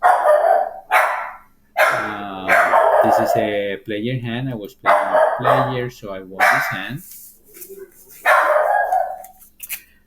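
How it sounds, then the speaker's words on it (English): A pet dog barks indoors in a few short bursts, one near the start and another near the end, while someone talks steadily over and between them. "Sorry about my dog."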